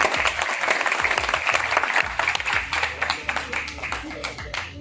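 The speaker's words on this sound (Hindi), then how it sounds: "अब जो तालियां बजेगी वो आपके लिए बज रही हैं। प्लीज मारिए जरा जोर से।" An audience applauds at a Chandigarh police event honouring coronavirus frontline workers. Dense, steady clapping fills the whole stretch while a voice talks over it.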